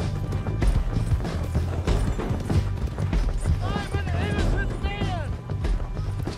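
Horse galloping in Red Dead Redemption 2, with steady hoofbeats running throughout under game music and ambient effects, while someone talks over it.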